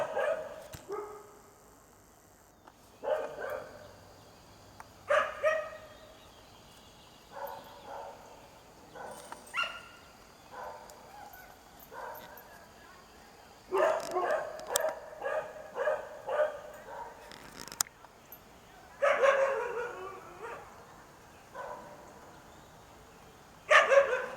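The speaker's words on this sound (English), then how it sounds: "that dog is now causing other dogs in the neighborhood to start barking" Several dogs bark in bursts at a distance, some higher-pitched yips mixed in, with quiet gaps between the outbursts.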